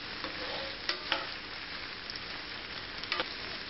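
Peppers cooking in a pot for vegetable pasta give a steady close sizzle and frying crackle, with a few sharp stirring scrapes standing out above the hiss; no one talks.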